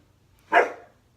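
A single sharp bark from a dog at play indoors, loud and fairly close, rising quickly and then fading over a quiet low hum.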